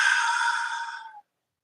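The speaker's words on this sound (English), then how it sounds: "I'm going to breathe in through my nose with my mouth open." A single long breath drawn in through the nose with the mouth open, a steady airy rush lasting just over a second that cuts off abruptly into silence, close and fairly loud.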